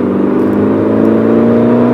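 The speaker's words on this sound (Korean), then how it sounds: "사운드 제네레이터가 적용이 돼서 제법 굵직하고 울림이 있는 배기감을 보여주고 있습니다." A Peugeot 308 GT hatchback in sport mode, its sound generator on, gives a steady, deep, resonant engine and exhaust drone from inside the cabin. The drone is loud and continuous with no talk.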